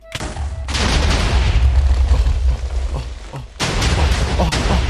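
TNT blowing up in Minecraft: a loud, sustained rumbling roar of blasts lasting several seconds with a brief dip, then another heavy burst, no talking over it.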